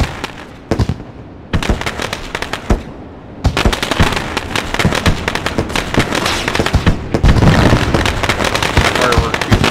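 Fireworks set off at the start of a dirt race: rapid, loud crackling bursts and pops that come in clusters, then build into a dense, continuous barrage.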